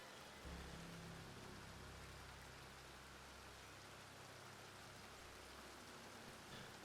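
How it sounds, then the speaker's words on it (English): Steady rain falls in Red Dead Redemption 2, a soft, even hiss that holds for the whole stretch at low volume, with no voices over it. "Starting to rain."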